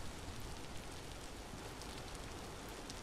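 Steady rain falling in the survival game Vintage Story, a soft, even hiss that holds at the same level throughout, low in level and with no other sounds.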